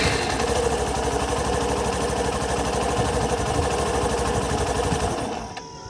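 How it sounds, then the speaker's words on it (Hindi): A Hero Passion Pro motorcycle engine runs with a loud, close, steady rapid chugging for about five seconds, then shuts itself off automatically and the sound dies away. "देखिए 7 से 8 सेकंड बाद ऑटोमेटिक ही ये इंजन बंद हो जाता है।"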